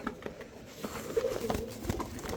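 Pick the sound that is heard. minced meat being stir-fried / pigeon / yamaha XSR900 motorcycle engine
pigeon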